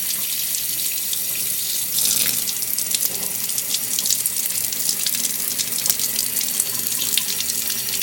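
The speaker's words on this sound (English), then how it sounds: "drop the water straight on, it should come out the hole here" Water pours steadily from a tap through a baffled oil catch can being cleaned, a continuous hissing splash that stays even throughout, with faint trickling and no voices.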